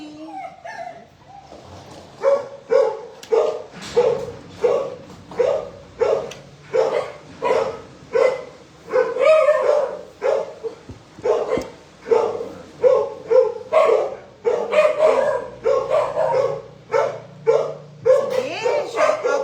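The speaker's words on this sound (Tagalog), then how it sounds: "shoutout na rin ng mga aso dyan, ng mga lords. Nag-shoutout na rin sila." Dogs barking in repeated bursts for the whole stretch, loud and close, some barks rising into higher yips.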